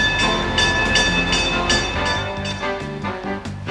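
A Pikes Peak cog railway train starts down toward the depot, with a loud rumbling, clanking run of wheels and machinery, repeated metallic hits and a sustained ringing tone layered over it.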